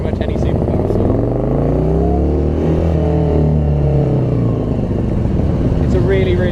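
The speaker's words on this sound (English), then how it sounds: "It's a really, really revvy engine." A Morgan car's engine revs up hard and loud, its pitch sweeping upward through a sustained howl before dropping off, close by inside or beside the car.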